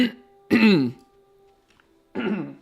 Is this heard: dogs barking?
no